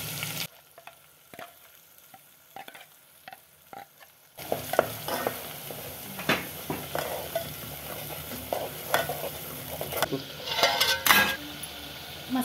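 Prepared masala paste for a mutton rassa is stirred in a pan, with a spoon scraping and clinking in a quiet stretch. Loud sizzling then bursts in as frying continues, with repeated scraping strokes close up and no talking.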